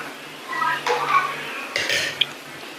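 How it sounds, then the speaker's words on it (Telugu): Boiled drumstick pieces tipped into a pot of mutton curry, with a couple of close metallic clinks and scrapes of a spoon against the pot over a low background hum. "ఉడకపెట్టుకున్న ములక్కాయ ముక్కలు అనేది నేను వేసుకుంటున్నాను"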